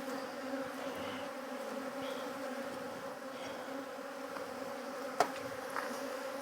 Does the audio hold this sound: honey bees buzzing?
yes